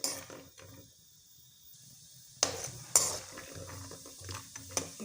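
Peanuts frying in hot oil in a pan for lemon rice, with a soft sizzle under scattered metallic clinks and scrapes of a stirring spoon, two sharper knocks standing out.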